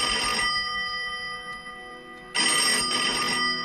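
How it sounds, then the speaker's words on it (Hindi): A room telephone rings with a bright, metallic trill, one long ring fading, then a second loud ring starting after a pause, close and alone. "और तभी कमरे का फोन बजा"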